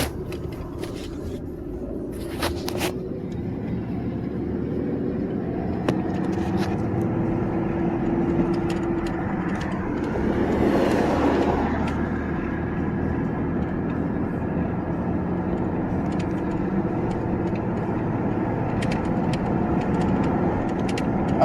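Engine of a 1999 Ford Ranger pickup with a 3.0L engine and K&N cold air intake, climbing a hill above 2,000 RPM: a steady drone with a rising whine in the cab, occasional clicks and rattles, no talking.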